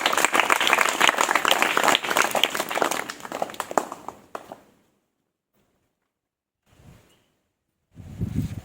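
An audience at a Hindi Day stage play breaks into dense, sustained applause that tapers off into silence, followed by a brief rustle and then more noise near the end.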